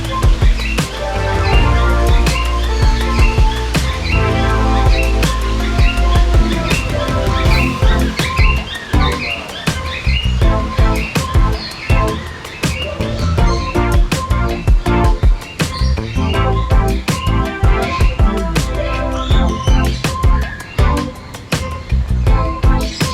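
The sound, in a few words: trained parrots calling at KL Bird Park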